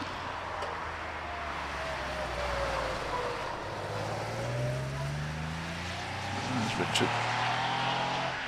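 Air-cooled 3-litre Porsche 911 race car pulling away from the line at the Prescott hill climb, engine note rising through gear changes as it recedes, with a commentator talking over it.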